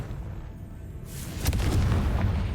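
A booming fire-spell blast in a fantasy wizard-school action game erupts about halfway through, a single heavy burst that rolls into rumbling debris after quieter game ambience.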